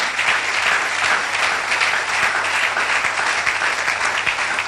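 A church congregation claps in steady, dense applause that fills the room at close range and stays even throughout, with no talking over it.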